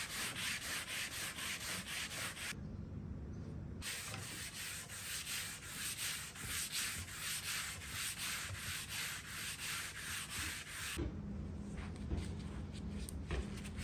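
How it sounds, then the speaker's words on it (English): Sandpaper of 120 grit rasps across a mid-century modern wooden dresser in a continuous, steady scratchy rubbing, close and fairly quiet. It carries on through brief shifts in pressure and stroke, with no talking. "I'm going to sand the entire thing now with 120 and see if I can get everything evened out."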